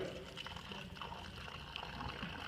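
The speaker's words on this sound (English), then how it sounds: "Pour some water on the house?" Water poured onto a sand model house, a steady, soft, continuous splashing trickle, close and fairly quiet, without interruption.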